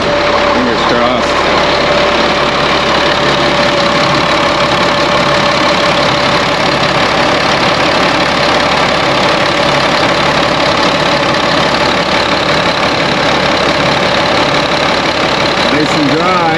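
GMC C7500 truck with its diesel engine idling, a loud steady rumbling drone that holds constant throughout, close up, with a voice speaking over it.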